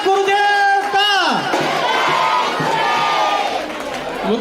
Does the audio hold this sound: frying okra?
no